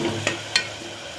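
Ground spice paste sautés in a pan for chicken soup, giving a faint sizzle and two quick stirring scrapes about a quarter-second apart.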